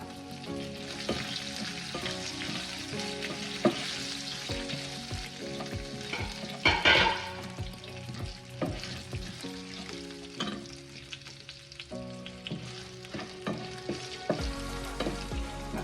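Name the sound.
green chillies frying in oil for cucumber sambar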